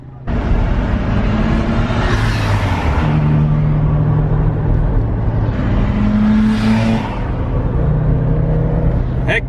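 Cars accelerate hard on the way to a cars-and-coffee meet, with two loud rising engine roars a few seconds apart over steady road rumble.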